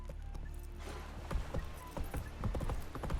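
Hooves of the horse Roach in The Witcher 3 pound in a quick galloping clip-clop rhythm, close and steady, building slightly in loudness over a few seconds.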